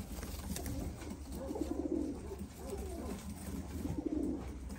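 Ornamental pigeons cooing at a breeder's loft in Istanbul, with repeated soft, low coos at a moderate distance over a faint, steady background hum.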